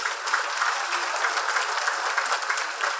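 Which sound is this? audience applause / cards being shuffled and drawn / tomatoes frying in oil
audience applause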